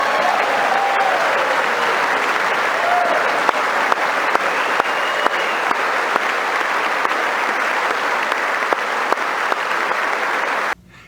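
An audience applauds during a political speech, a steady full roar of clapping that runs unbroken and loud for several seconds and then cuts off.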